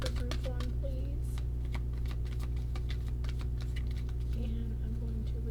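Tarot cards are shuffled and handled in quick, close, crisp flicks and patters over a constant low hum, with a faint voice in the background.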